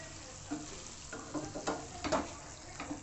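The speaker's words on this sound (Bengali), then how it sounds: "আবার এটাকে কষাচ্ছি।" Food sautéing in a pan on a lowered flame, a quiet crackling sizzle punctuated by stirring scrapes and soft bursts, with no voices.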